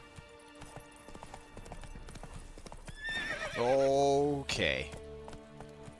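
Roach, Geralt's horse in The Witcher 3, gallops with rapid rhythmic hoofbeats, then lets out a loud drawn-out neigh and whinny; someone speaks a single word briefly over the game audio.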